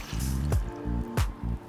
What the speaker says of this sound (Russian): добавляем буквально пару столовых ложек воды